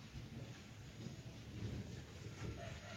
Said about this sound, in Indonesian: Ya udah hujan geningan, pantesan menit tiris kieu